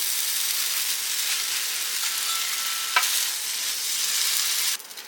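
A sandwich on buttered Texas toast sizzles in a frying pan while it grills, giving a steady broadband crackle that runs throughout, with a brief scrape near the middle and a drop in level at the very end.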